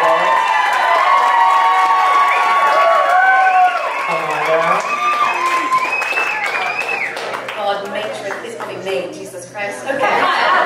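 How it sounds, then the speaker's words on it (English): Wedding reception guests at Shutters on the Beach in California applauding and cheering for the matron of honor, a loud, dense crowd roar of clapping with whoops and voices that gradually tapers off. "Let's give her a round of applause."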